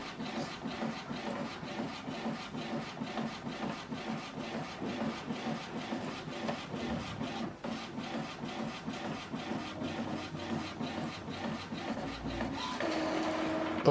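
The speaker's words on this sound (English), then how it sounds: "So now it's printing out network status sheet." An Epson WF-2930DWF inkjet printer runs a network status sheet, its mechanism chugging in a fast, steady rhythmic pulse close by for the whole stretch, then shifting to a brighter whir near the end as the page feeds out.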